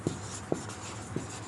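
Three short, faint taps and strokes of writing on a board in a classroom, evenly spaced about half a second apart over a low steady hum.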